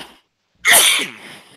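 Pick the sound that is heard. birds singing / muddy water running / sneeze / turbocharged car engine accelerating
sneeze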